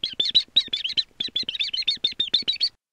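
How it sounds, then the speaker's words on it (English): Young chicks chirp in a rapid, continuous string of high, bright peeps, loud and close with short gaps between calls, heard alone. "Chicks chirp."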